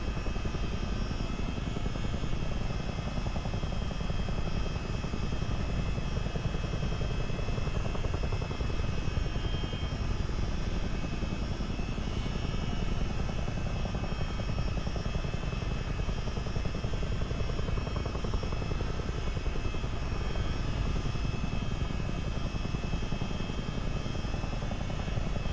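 A CH-47D Chinook twin-rotor helicopter in a flight simulator game flies along a coast toward an airport, its steady, loud rotor and engine drone continuing unbroken and close throughout, with no talking.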